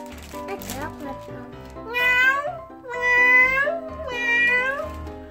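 A Pokémon cat toy gives three rising electronic meows in a row, fairly loud, after a brief stretch of lighter sounds, with no speech over them.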